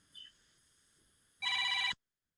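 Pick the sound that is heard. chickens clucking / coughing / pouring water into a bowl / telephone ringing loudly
telephone ringing loudly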